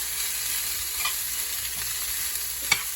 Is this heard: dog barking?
no